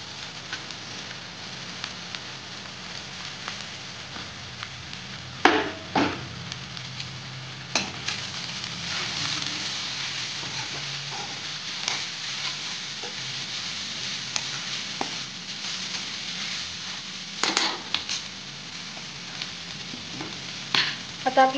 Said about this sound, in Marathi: आता आपण त्याच्यामध्ये जी भाजी आपण उकडून घेतली होती ती घालूयात।